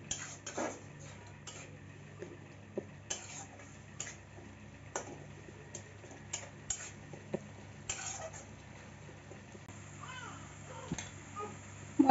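Bengali spice paste for a prawn and potato curry being stirred and fried in a pan, with soft repeated scraping ticks of a spoon against the pan and a faint sizzle underneath, moderately close and fairly quiet.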